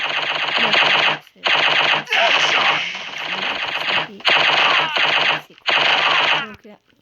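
Rapid automatic gunfire from a mobile shooter video game fires in long, loud sustained bursts separated by brief pauses, with a voice speaking underneath in places.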